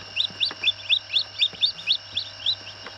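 Newly hatched baby chicks peep in a steady run of about a dozen high, sharp chirps, close and loud against a low background hum, with no talking.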